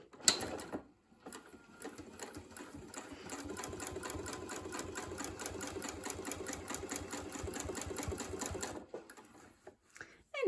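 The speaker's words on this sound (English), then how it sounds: "I'm going to start sewing together." A sewing machine stitches quilt pinwheel pieces together at a slow, even pace, with rapid steady needle clatter running for about eight seconds between brief pauses.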